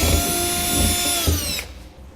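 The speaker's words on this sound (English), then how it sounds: "we're going to drill a small pilot hole on our center mark" Power drill boring a small pilot hole through the steel bed of a 2007 truck, a steady high whine with rising pitch that cuts off abruptly near the end, loud and close with no talking.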